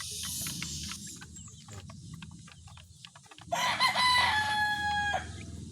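Hens cluck in short bursts, then a rooster lets out a long, loud crow close by, all over a constant low background hum.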